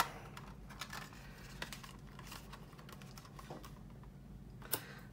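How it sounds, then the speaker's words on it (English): Tape pulled off the roll and torn by hand while assembling a 1/48 scale F-15E plastic model kit, heard as soft scattered crackles and short ripping ticks, with one sharper tear near the end, in a quiet room. "And I'm going to tape these up."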